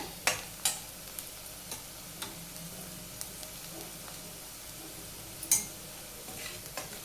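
Onion and spices with hing sautéing in oil for kurdaya bhaji, a steady soft sizzle broken by a few sharp scrapes and clinks of a spoon stirring the pan, close and alone.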